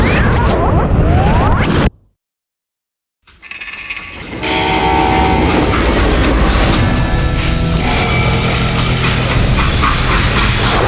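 A freight train rolls along in the video game Call of Juarez: Gunslinger, a loud, continuous rumble and clatter broken by a brief silent gap before the roar returns.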